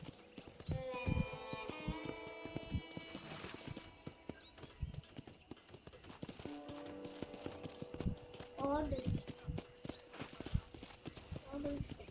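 Hooves clip-clop steadily with an occasional horse whinny from horses in a ranch corral in Red Dead Redemption, set against game music and a talking voice.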